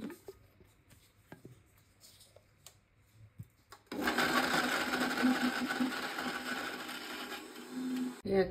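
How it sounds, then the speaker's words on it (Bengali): Blender running on dates, starting abruptly partway through with a loud steady whirring grind that holds for several seconds and then cuts off, after a few quiet knocks and handling sounds beforehand. "এখন আমি খেজুরগুলি ব্লেন্ড করে নেব"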